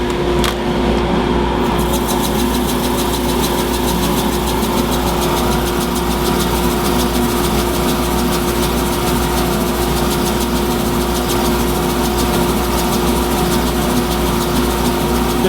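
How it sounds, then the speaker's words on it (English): A dust collector and a wood lathe run together in a woodturning shop, making a continuous loud, steady hum and drone that stays even throughout with no talk. "Let me turn the dust collector on and we'll go at it."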